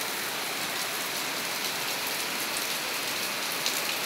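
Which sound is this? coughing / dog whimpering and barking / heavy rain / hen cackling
heavy rain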